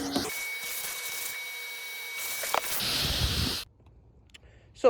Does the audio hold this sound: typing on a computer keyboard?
no